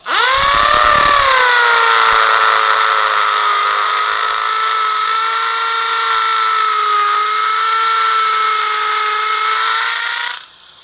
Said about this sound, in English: So I place my bit where I want to drill